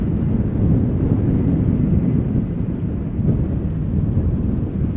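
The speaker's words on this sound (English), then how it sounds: "if you guys like Embraer 175s, here we have another one about to touch down" KLM Embraer 175 jet on final approach touching down at Amsterdam Schiphol in a steady headwind, a continuous low rumbling roar of engines and wind noise holding at a constant loud level.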